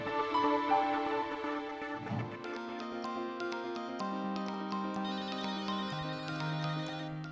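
A melodic electronic ringtone plays steadily, tones stepping through a repeating tune, clear and close with no voices.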